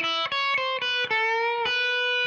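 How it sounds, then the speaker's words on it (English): An electric guitar plays a short blues lick starting from B: a quick run of distinct picked notes with slight overdrive, ending on a sustained bend. "Let's say I played a lick like this off the B."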